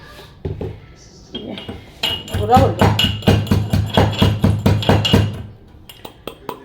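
Sugar being crushed with a spoon in a bowl, heard as a fast run of loud, rhythmic metallic scraping and clinking strokes, close up, with a voice speaking briefly before the strokes begin.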